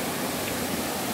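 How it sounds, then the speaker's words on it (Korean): Waterfall in a valley stream near Seoul, rushing water forming a steady, dense broadband roar that stays loud and unbroken throughout, with no voices. "여기 보면은 이런 폭포라고 해야 하나요?"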